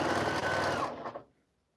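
A sewing machine stitches a Quilt of Valor in one fast, close, steady run of needle strokes that slows and stops after about a second.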